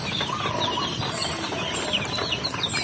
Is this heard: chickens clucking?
yes